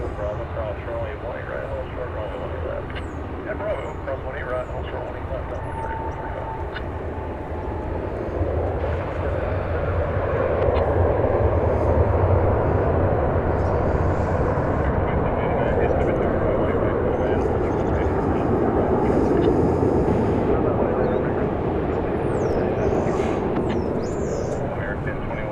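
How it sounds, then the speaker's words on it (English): An American Airlines jet arriving from San Antonio, Texas, on approach to land at Dallas Fort Worth airport, a broad steady engine roar that swells louder midway and holds near, with voices talking over it. "about to land. It's coming in from San Antonio, Texas."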